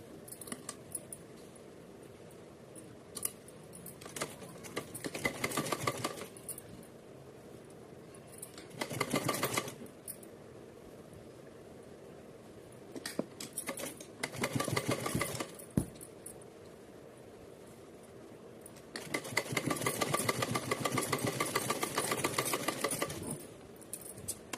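Sewing machine runs a straight seam on folded fabric for a Radha Rani outfit, buzzing in short bursts and then in a longer steady run, with quiet handling noises between the bursts.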